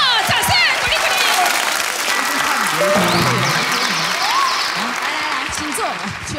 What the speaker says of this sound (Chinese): 掌声鼓励鼓励